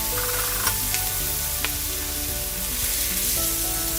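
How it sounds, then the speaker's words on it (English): Peppers sauté in butter in a pan on the stove, a dense continuous sizzle with faint scraping and clicks from stirring, close up and without talk. "I'm going to saute this lightly"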